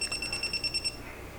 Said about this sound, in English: Why is it making that sound at this light switch?